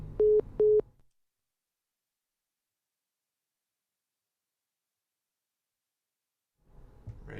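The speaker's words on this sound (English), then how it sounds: "your phone is tripping" Telephone busy signal on a faulty phone line: two loud, steady beeps at the start, then about six seconds of silence before faint noise returns.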